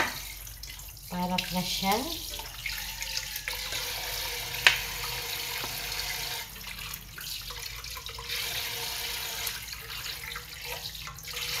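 Fresh bangkulis fish is rinsed under a running tap, a steady close stream of water with splashing and handling clatter, while a voice speaks briefly.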